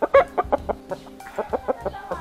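Rooster clucking close by in a steady run of about a dozen short, throaty clucks, loud and evenly spaced, with no talking over it.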